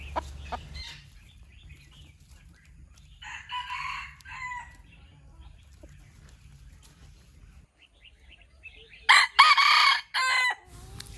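A crossbred game rooster crows loudly and close by in a few strong bursts near the end, with fainter calls and rustling earlier over a low background hum.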